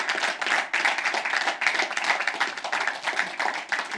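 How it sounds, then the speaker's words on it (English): An audience applauds panelists at a leadership discussion panel, a dense, steady clapping that carries loudly and continuously for the full four seconds with no talking. "ladies and gentlemen, a round of applause for our esteemed panelists"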